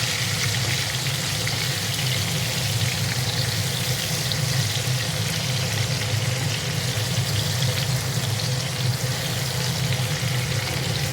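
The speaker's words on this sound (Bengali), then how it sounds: "টমেটো কুচিটা বেশ ভালো করেই ভাজতে হবে" Chopped tomato frying in hot oil after a spice tempering, a dense continuous sizzle filling the whole stretch, close and loud with no voices.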